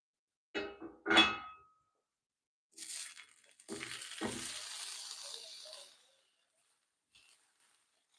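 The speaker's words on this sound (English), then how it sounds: "And hear the sizzle." Two dull knocks, then food hits a hot Lancaster cast iron pan and sizzles loudly for a few seconds before fading away.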